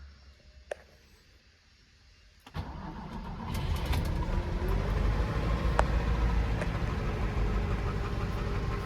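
A VAZ 21011 car engine starting in the cold: a few faint clicks, then a sharp crank-and-catch at about two and a half seconds, settling into a loud, rough, steady idle up close.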